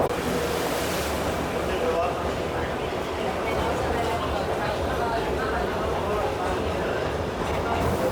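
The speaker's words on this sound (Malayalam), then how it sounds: "നല്ല മഴ തുടങ്ങി വീണ്ടും." Heavy rain pours steadily on the Kalka-Shimla heritage train in Himachal Pradesh, a dense, continuous hiss and drumming close around, loud and unbroken throughout.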